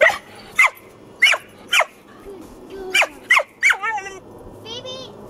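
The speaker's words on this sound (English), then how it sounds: "Why are you barking at them?" A dog barks repeatedly at horses outdoors on a ranch, loud, sharp barks in uneven bursts, with a person speaking and a voice in between.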